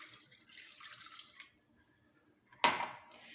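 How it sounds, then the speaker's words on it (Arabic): Warm water from a glass pours into warm milk for croissant dough, first as a brief soft trickle and splash. After a pause comes a sharper, louder splash that trails off, with no talking over it. "نزيد عليه الكاس تاع الماء دافي"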